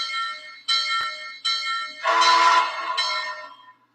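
A model train layout's sound-system bell rings in several sharp strokes, each decaying briefly, followed by a louder brassy burst, close and clear with no voices.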